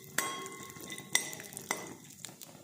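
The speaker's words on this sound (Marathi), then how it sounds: "आणि छान रंग येऊसपर्यंत आपल्याला हे भाजून घ्यायचे आहेत." Cashews stirred in hot ghee in a pan, with a few sharp spoon clinks and scrapes against the metal at irregular intervals over a soft low sizzle, close and fairly quiet, no talking.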